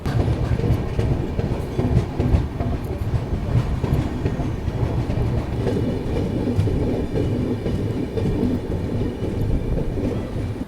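Yoga Express sleeper class train rolling along the tracks while switching lines, a continuous loud low rumble with rapid wheel clatter and rattling carriages and no voices.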